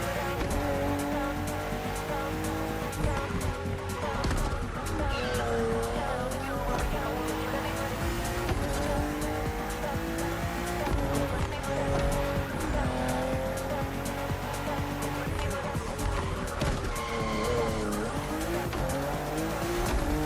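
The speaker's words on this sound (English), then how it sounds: "we put you behind the wheel of the fastest production car BMW has ever made, the M4 CSL" Racing in The Crew Motorfest with a BMW M4 CSL, the fastest production BMW: a steady, loud engine drone runs throughout with rising and falling revs and intermittent tire squeal under background music, with a voice faintly present.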